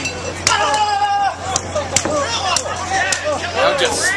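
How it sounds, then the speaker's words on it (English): Open-handed slaps ring out as one wrestler strikes another in an indie wrestling ring in Florida, sharp cracks repeating at irregular intervals over a steady crowd murmur and ringside commentary. "Now just slapping him down"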